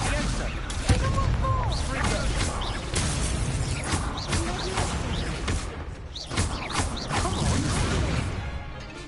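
A fire spell cast in Hogwarts Legacy, heard as loud bursts and whooshing blasts layered over dense game combat noise, with several sharp hits spread across the moment.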